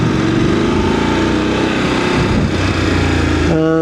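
Close and loud, the engine of a Voge 900 DSX motorcycle drones steadily as the throttle is rolled on slowly, its pitch rising gently. A harmonic whine comes in near the end.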